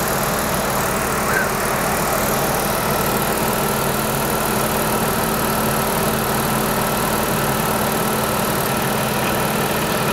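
A 1998 Chrysler engine idles steadily with its AC compressor clutch engaged and both cooling fans running, giving a loud, continuous hum and whir with no breaks throughout.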